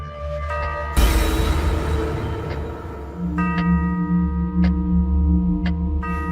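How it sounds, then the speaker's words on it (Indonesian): A steady ticking clock with faint periodic clicks over a low humming background drone, and a sharp burst of noise early on. "Kenapa jam ini bunyi terus?"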